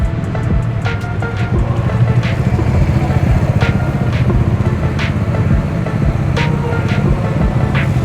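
A motorcycle is maneuvered at a riding school, its engine giving a steady low rumble at modest revs, with the throttle swelling slightly and faint clicks and knocks scattered over it.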